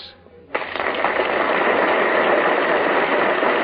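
An audience bursts into applause for a stage performer at the Ziegfeld Follies, a sudden swell of dense clapping that starts abruptly and holds steady and loud to the end.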